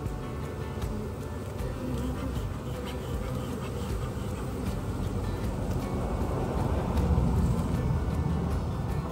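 A colony of honey bees at an open hive buzzes loudly and continuously from close by, a dense, steady drone with no talking.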